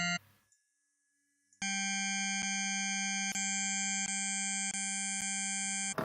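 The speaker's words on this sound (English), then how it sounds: "You can hear each time I add a new frequency" A pure sine-wave fundamental from the Serum synthesizer hums steadily while further sine harmonics stack on at intervals, each entry marked by a faint click, building a brighter combined sound.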